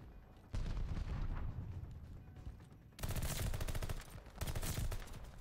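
Rapid Call of Duty gunfire during a collegiate esports match, dense automatic bursts crackling in three loud volleys with brief lulls between them, close and sharp with no voices over it.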